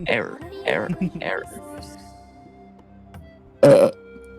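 After a few seconds of talk, a person lets out one loud, short burp close to the microphone.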